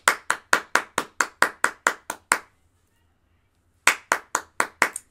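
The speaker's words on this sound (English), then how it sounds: "So I have to applaud." A single person claps firmly in a steady rhythm of about ten close, crisp claps, pauses briefly in silence, then resumes with several more sharp claps.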